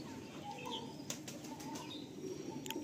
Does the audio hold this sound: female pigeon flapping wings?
yes